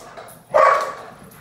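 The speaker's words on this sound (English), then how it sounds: "there go the dogs" A hungry dog gives a single short bark, loud and close, standing out against a quiet background with no talk.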